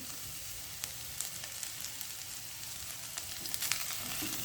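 Curry chillies sauté in a hot pan, a steady close hissing sizzle with scattered light crackles throughout, no voices over it.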